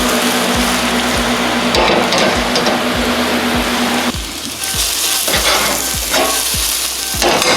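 Green onion whites hit hot oil in a pan for Mongolian beef, producing a loud, close, hissing sizzle with rhythmic spatula knocks, the fry intensifying sharply partway through.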